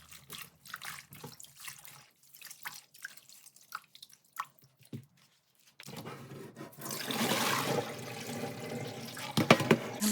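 Water splashes and pours while a crocheted lace blouse is rinsed in a basin, starting with sparse drips and small sloshes, then turning to a steady louder running stream near the end.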